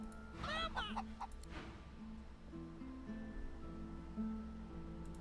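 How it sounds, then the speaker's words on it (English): Chicken clucking in the video game Divinity Original Sin 2: a short burst of clucks near the start, then quieter fowl sounds over a steady low game ambience. "So, what do I do with the void-woken chicken?"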